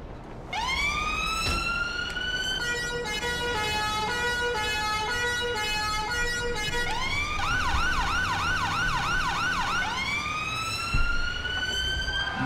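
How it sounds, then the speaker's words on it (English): A loud British ambulance siren wails nearby, switching between a rising whoop, a two-tone warble and a fast yelp, continuous throughout. "now it's off to the ambulance service."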